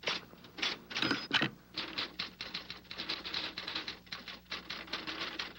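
Typewriters clack away in an office, a steady patter of close keystrokes with a few louder carriage-like strikes near the start, alone without talking.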